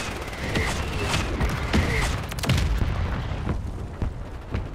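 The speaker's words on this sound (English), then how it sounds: "My mortar strike should be killing a lot of people." Mortar strike explosions land in Call of Duty, a dense, loud run of booms and cracks overlapping one another with rumbling tails, thinning out toward the end.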